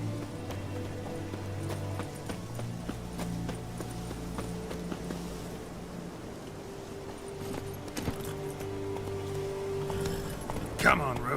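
Roach the horse gallops in The Witcher 3, hooves clip-clopping in a steady rhythm beneath a low musical drone and game ambience, with a brief sharper sound near the end.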